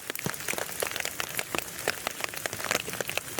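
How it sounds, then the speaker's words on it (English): Heavy rain pounding close to the camera in a forest, a dense patter of sharp drops striking nearby surfaces, steady and fairly loud with no voices. "the rain, for some reason, like, starts pounding next to the camera"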